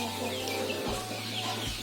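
Flock of chickens in a coop, sick with a respiratory disease, making clucking sounds over a steady low hum.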